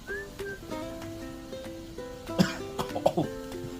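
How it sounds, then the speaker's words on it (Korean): Coughing set off by the smell of ramen soup powder during a boiling-point experiment with water, with a few sharp coughs bunched near the end over a low steady background hum. "기침이 나오네요"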